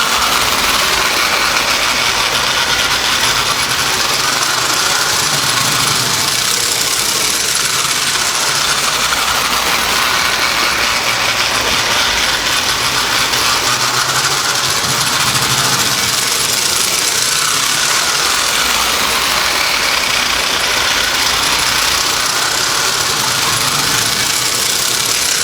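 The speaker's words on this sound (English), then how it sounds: "here we go with our 1940 last year Tinplate steam engine set." A 1940 American Flyer pre-war tinplate toy steam train chugs steadily and continuously with a rattling, mechanical hiss, running at an even pace throughout.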